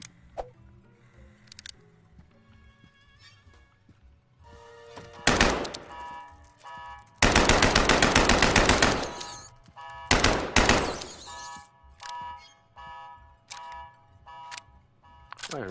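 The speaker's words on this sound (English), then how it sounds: "Now I need to use the suppress pistol. And the AK." Suppressed pistol and AK gunfire in a video game, with scattered quiet shots and thumps, then several loud bursts including a sustained rapid volley in the middle.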